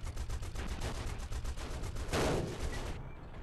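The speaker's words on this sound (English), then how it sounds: "Oh, what am I getting shot from?" Continuous rapid gunfire during an aerial dogfight in the Wings of Duty flight game, a steady rattling stream of shots with a louder burst near the end, no talk over it.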